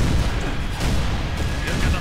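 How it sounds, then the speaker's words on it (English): Grenade explosions in the video game Halo: Reach during a battle against enemy ships, heard as loud booming bursts at a close distance over dense game noise. "I have thrown grenades at them."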